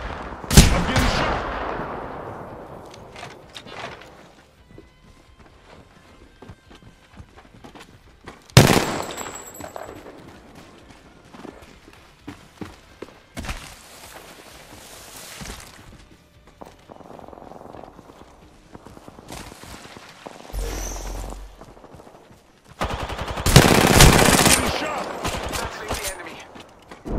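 Gunfire in a battle-royale shooter game: sharp cracks and short rattling bursts, loud and close, with quieter pauses between volleys and some footsteps and game sounds in the gaps.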